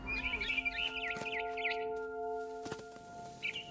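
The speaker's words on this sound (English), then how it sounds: "I heard chirping outside my window. It was a barn swallow going back to her nest." A barn swallow chirps in a few quick warbling bursts in What Remains of Edith Finch, heard over steady tonal game ambience, with a brief flutter and another short call near the end.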